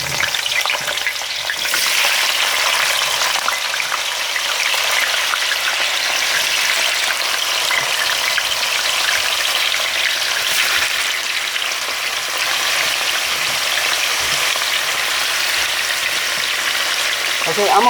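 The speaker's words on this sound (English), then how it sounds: "I'm gonna let these fry up until they turn brown at the bottom" Mackerel fries in hot oil with a steady, close, crackling sizzle that runs unbroken and evenly loud throughout.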